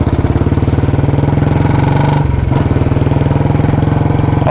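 A modified BS6 Royal Enfield Bullet 350 with a short Punjab-style exhaust thumps steadily as it slows, a loud, close, deep rhythmic engine beat that briefly dips mid-way before resuming its even pulse.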